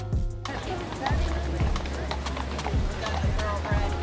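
Carriage horses clip-clop near Central Park in New York, several close hoof strikes ringing over a busy street murmur and steady traffic hum.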